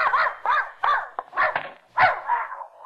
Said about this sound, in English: I came for Mrs. Pondecker's dog to take him for a walk